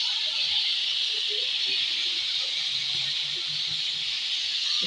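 Marinated chicken cooks in hot oil for shawarma, giving a steady, even hiss close by that holds without a break, with faint low knocks underneath.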